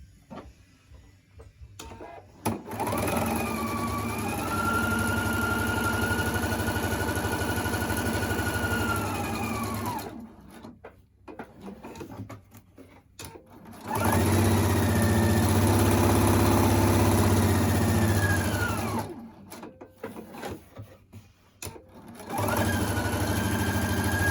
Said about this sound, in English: I'm going to stitch around my entire square, about just really close to the edges